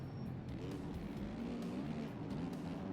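A motocross bike engine in the MX Bikes video game revs and drones continuously, a rough buzzing roar that rises and falls slightly over about three seconds, with no talking.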